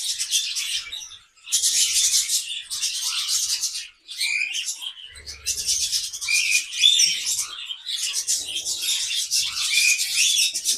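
Busy, continuous high-pitched chirping and chattering from budgies, a male near a female, bursts following one another with brief pauses, close and fairly loud.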